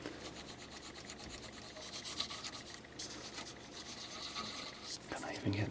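Scraping of old thermal paste from a Pentium III heatsink in a Compaq Deskpro, a steady close rubbing and rasping that runs through the whole stretch, with a few louder scrapes near the end.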